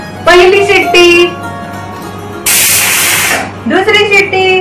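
Cooking tomatoes for ketchup, a pressure cooker gives a single sharp burst of hissing steam lasting about a second, loud and close, between short stretches of a woman's speech.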